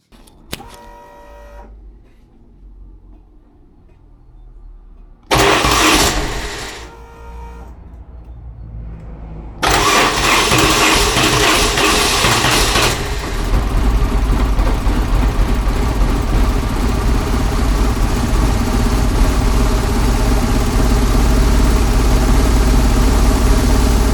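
A BMW GS motorcycle engine, just back from a wire repair, cranks briefly, catches and then settles into a loud, steady idle that runs on for a long stretch without talk.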